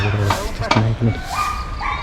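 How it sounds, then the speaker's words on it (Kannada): A few short dog barks and yips ring out nearby in quick succession, mixed with people talking. "ಪ್ರಾಣಿಗಳು ನೋಡಿ ನಾಯಿ ಇದೆ"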